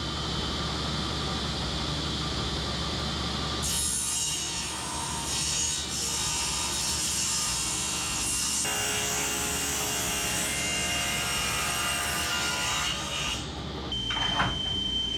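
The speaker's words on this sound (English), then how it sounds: "we'll run it through the saw and we'll trim off one edge" Table saw ripping a wooden board to trim one edge, a steady loud whining cut that holds for the whole stretch with slight shifts in pitch and no talk.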